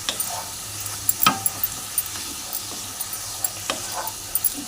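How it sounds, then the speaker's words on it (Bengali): Tomato paste fries with spices in a pan for a katla fish curry with potato and ridge gourd. It makes a soft, steady sizzle broken by a few spoon scrapes and knocks, fairly quiet and with no talking. "টমেটো পেস্টটাকে এবারে আমি দিয়ে দেবো। দিয়ে ভালো করে এর সঙ্গে একসাথে কষিয়ে নেব।"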